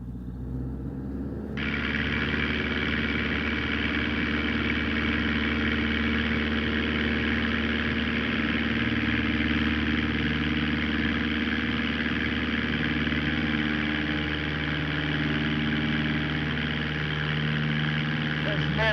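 A light aircraft's engine idles on the runway at Temora before takeoff, boost pump on, on a canola-field flight. A steady, loud, even drone runs throughout, with voices talking over it.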